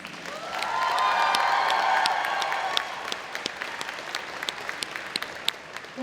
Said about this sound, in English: Give those seniors a round of applause